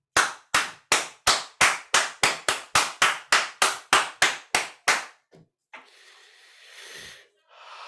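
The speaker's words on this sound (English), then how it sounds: "Whatever it is, find that and clap it out." A single person claps hands sharply and rhythmically, about sixteen crisp, close claps in a steady beat, then stops, followed by a few quieter breathy sounds and rustling.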